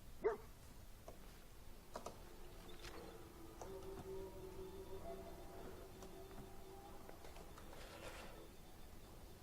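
A dog companion in the video game Fallout 4 barks and yips faintly a few times over a steady game background hum, the calls short and spread out, with no voices.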